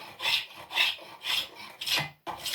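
A spokeshave smooths a tapered wooden chair part in five rhythmic rasping strokes, each a short scraping swish with brief pauses between, close and clear with no talking.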